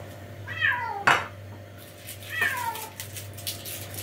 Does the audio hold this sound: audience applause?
no